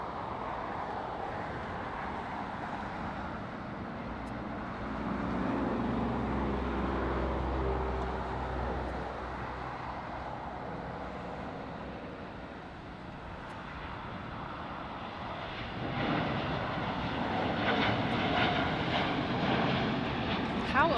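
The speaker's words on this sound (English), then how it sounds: "The Dreamliner going to Tokyo." Boeing 787 Dreamliner jet taking off from LAX bound for Tokyo, a broad distant engine roar that swells and holds steadily for about twenty seconds, heard from a plane-spotting position.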